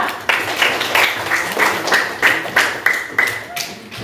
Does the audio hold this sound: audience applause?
yes